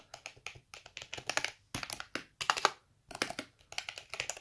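Fast typing on a clicky Trust GXT 860 Thura semi-mechanical gaming keyboard, dense bursts of keystrokes broken by short pauses, close up and fairly quiet, no speech.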